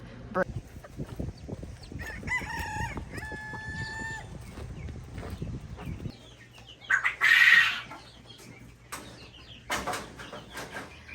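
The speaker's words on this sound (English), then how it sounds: "These lavender Orpington babies have been in the house for about a week" Baby lavender Orpington chicks in a small plastic tote cheep in high, rapid peeps, followed by a louder burst of chirping and some handling noise.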